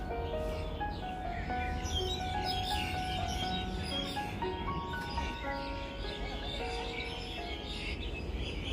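Songbirds chirp and warble around the ornamental lake at Tsing Yi Park, several overlapping calls against a steady outdoor background hum, moderately near with no one speaking.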